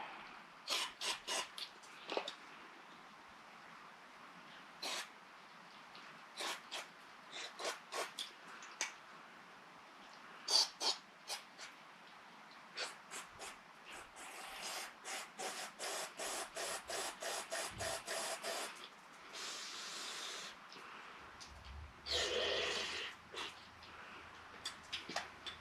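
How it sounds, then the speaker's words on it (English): Carburetor cleaner sprayed from an aerosol can into the ports of a carburetor from an M151 jeep, giving short hissing bursts and then longer sustained sprays, mixed with small clicks and handling noises at close range. "we'll get some carburetor cleaner here and blow out some of these ports"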